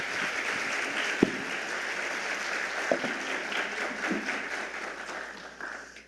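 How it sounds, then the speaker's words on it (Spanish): An audience at an international seminar on public legal management applauds three panelists with steady, moderately distant clapping, a few louder individual claps standing out and the applause thinning toward the end. "Les pido que le demos un aplauso a ellos tres."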